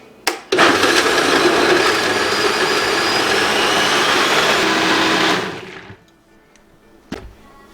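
A blender purees butternut squash soup with one loud, steady whirring run of about five seconds that winds down to quiet. A short clatter comes before it and another comes after.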